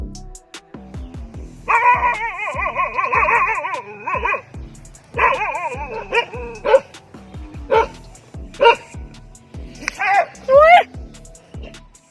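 Dogs bark and yip repeatedly at a monitor lizard, loud and close, in bursts with a few whimpering cries between them.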